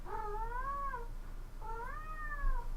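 A cat gives two drawn-out, rising and falling meows, each about a second long with a short pause between, fairly clear over a quiet background hum.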